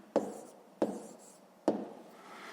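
Numbers written by hand with a pen on paper, three distinct tapping strokes each trailing into a soft scratch, quiet and close with no voices.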